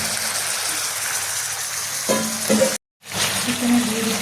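Chicken sizzles and fries steadily in a pan, a continuous loud crackle that cuts out briefly near the end before resuming.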